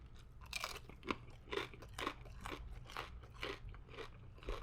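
Crispy pork belly crackles and crunches between the teeth, close up, in a run of repeated bites and chews, each one a sharp burst of brittle crunching.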